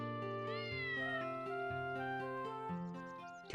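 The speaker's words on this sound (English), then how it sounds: "Cat noise." Cat meowing in a video game, a drawn-out meow with rising and falling pitch over a steady synthesized game music bed, clear and close.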